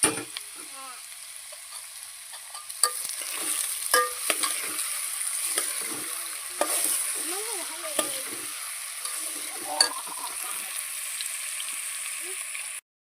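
Ridge gourd vegetables fry in hot oil in a pan, a steady bright sizzle running throughout with occasional stirring clatter and a few faint background voices.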